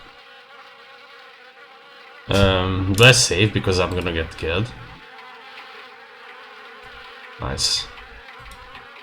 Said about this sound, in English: The attic window is the perfect nesting grounds for wasps.